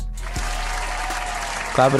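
Brief burst of applause on a basketball podcast, a dense, steady patter for about two seconds, with a voice breaking in near the end.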